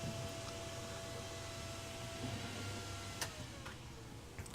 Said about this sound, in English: that's the main fan on the computer